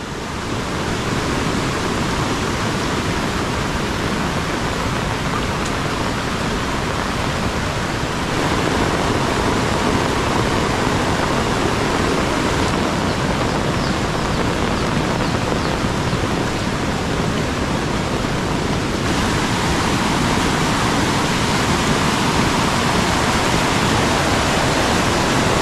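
Strong floodwater rushes without pause in a rainy rural setting, a dense, loud, even roar that fills the whole stretch with no break.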